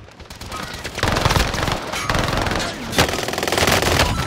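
Sustained automatic gunfire from the Warzone video game, dense rapid bursts growing louder after the first second, with further volleys near the end, loud and close.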